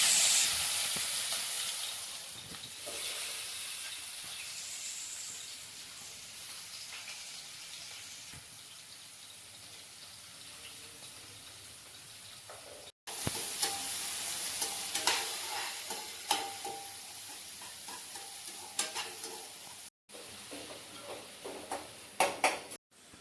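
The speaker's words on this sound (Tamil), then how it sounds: "வெங்காயம் போட்டுக்கலாம்." Onions fry in about 50 grams of oil in a kadai. A continuous sizzle runs throughout, with frequent scraping stirs that grow busier and louder in the second half, broken by a couple of abrupt cuts.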